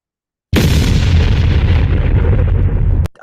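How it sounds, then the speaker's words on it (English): A loud bomb explosion sound effect bursts in after a half-second of silence, a deep rumbling boom that sustains for about two and a half seconds before cutting off abruptly. "Give me a bomb."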